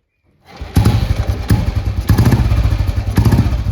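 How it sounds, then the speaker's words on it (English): An old motorcycle engine fires up after a moment of silence and settles into a loud, close, lumpy idle with regular thumping pulses and metallic clatter. "we'll have to start the bike."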